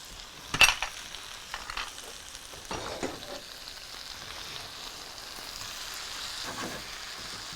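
Ingredients sizzle and crackle in a paella pan with a steady frying hiss, broken by a few sharp stirring scrapes and clinks early on, with no one speaking.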